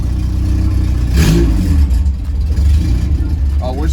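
Honda CRX engine revving hard as the car pulls away in first gear, a loud, steady mid-pitched drone with a brief surge in the middle and faint talk over it.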